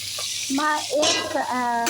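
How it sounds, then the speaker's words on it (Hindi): Fish pieces fry in oil in a kadhai with a soft, steady sizzle, partly covered by a melodic voice singing over it. "और देखिए सुबह सुबह मैं बना रही हूँ मछली"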